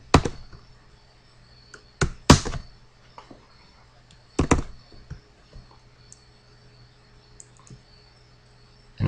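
Sparse clicks and clattering keystrokes of a computer keyboard sound up close as shortcut keys are pressed in Excel, arriving in small clusters with quiet gaps between them.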